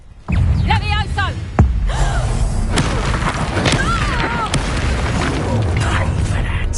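A Levioso spell cast in the Hogwarts Legacy video game: a sudden loud whoosh and thud followed by whirring magical effects and scattered impacts, with a voice shouting over the game sounds.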